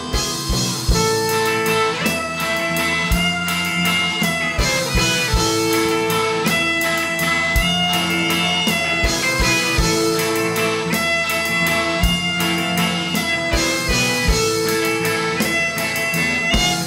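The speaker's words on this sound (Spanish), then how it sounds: "Y el saxofón suena así." Saxophone leads a full live band playing an upbeat ska-style worship song at a church diocese session, dense and loud with drums, bass and other instruments driving a steady beat throughout.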